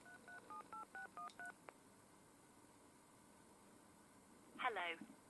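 Memory dialling tones from a 1988 ivory British Telecom Minstrel telephone: a quick, evenly spaced run of about eight short keypad beeps, followed after a pause by a brief burst of line tones, faint and alone over low hiss.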